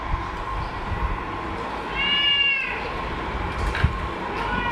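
A cat meows once at moderate distance, a short rising-and-falling cry amid a low household background, with faint indistinct noise around it.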